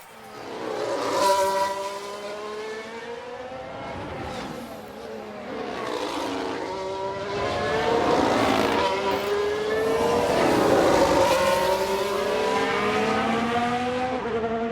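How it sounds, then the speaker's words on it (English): Race cars in the F1 Manager 22 video game, engine drone with tire squeal and skidding as several cars tangle, sustained and fairly loud, swelling toward the end. "Was that a crash? Multiple cars, I think."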